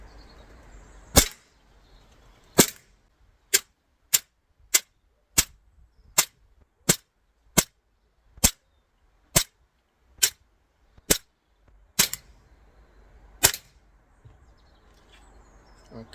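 An ASG CZ75 gas BB pistol fires about fifteen sharp, snappy shots at a steady pace of roughly one a second, close by and crisp, with no voices.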